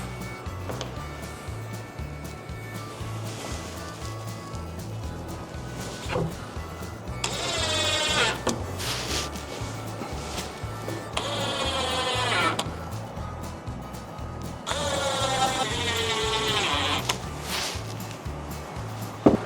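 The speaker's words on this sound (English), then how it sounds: "So now I will fix the small screws to stabilize this shelf." A power driver sets small screws into a floating shelf mounted to wall studs, giving three separate whining bursts of rising pitch over a steady low background hum.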